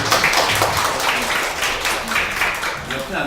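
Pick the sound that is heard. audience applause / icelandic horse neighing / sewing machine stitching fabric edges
audience applause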